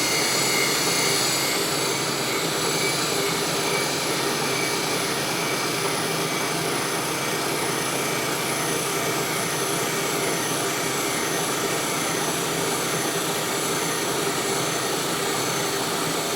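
Grinding machine making a spark-out pass on a precision workpiece, a loud steady broadband whirring hiss that stays constant throughout with no talk.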